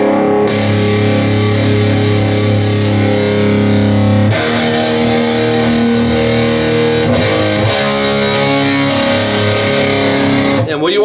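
Loud electric guitar riff in flat tuning, drenched in reverb and effects, with sustained distorted chords ringing out and shifting a few times before a brief cut at the end.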